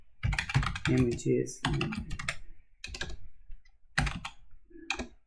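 Someone types a docker command on a computer keyboard, with quick bursts of clicky keystrokes and a pause between them, up close, while a voice talks over the typing.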